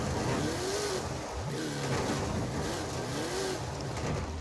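Forza Horizon 5 car engine revving in a loud, steady drone, the pitch sweeping up and down in several rising and falling rev swells over continuous road and game noise.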